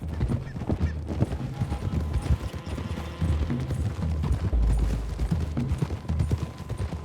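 Horse hooves clip-clop in the video game Red Dead Redemption 2, a steady, close rhythm of several horses on a dirt road over continuous outdoor ambience.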